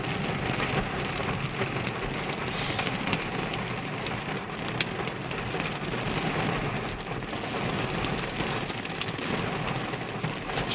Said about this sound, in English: It's hailing also.